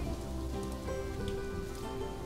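Steady rain falls in the zoo-building game Planet Zoo, a dense, even patter of drops filling the whole scene without pause, moderately loud, with faint musical tones running beneath and no voices.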